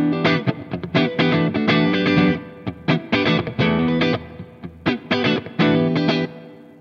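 An electric guitar played through a ZUTA LA25 MKII pedal in a light, crunchy tone, strummed chords and short choppy phrases with gaps between them, close and alone.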